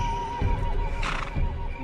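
A horse, the young pony Little Thunder, whinnies loudly in a cartoon scene, a wavering neigh rising and falling over a steady low hum, with a brighter burst midway and no talking.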